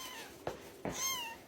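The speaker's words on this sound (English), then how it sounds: "And little Worm wants to scream at me." A kitten indoors lets out two short, high meows in quick succession, the second longer and rising, fairly faint against a quiet room.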